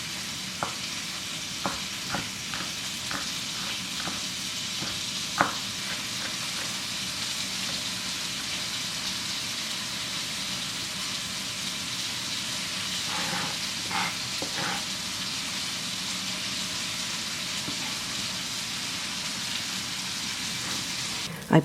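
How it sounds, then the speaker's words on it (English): Diced garlic cloves fry in a pan with a steady, even sizzle. Scattered clicks and scrapes of stirring run through the sizzle, and no voice is heard. "And I'll place the garlic into the frying pan."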